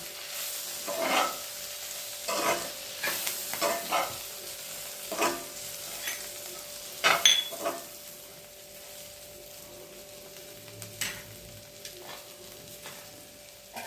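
Chillies fry in a little oil while a spoon stirs and mixes them, giving repeated scraping knocks against the pan over a faint background sizzle, with no voices.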